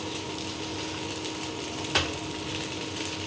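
Chow mein with Maggi noodles frying in a pan, a continuous soft sizzle and hiss with one brief scrape or clink partway through.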